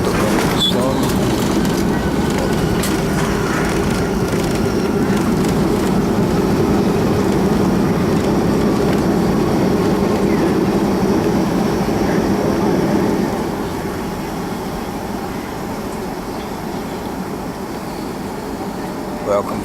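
An airliner from Detroit touches down at Fort Lauderdale-Hollywood International Airport, heard from inside as a loud, steady cabin roar that drops noticeably once the wheels settle, with voices faintly under the noise.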